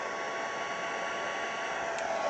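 Heat embossing tool blowing hot air to melt embossing powder, a steady, close hairdryer-like whoosh that runs unbroken throughout.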